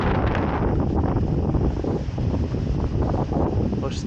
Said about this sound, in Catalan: Ui, quin vent, quin vent!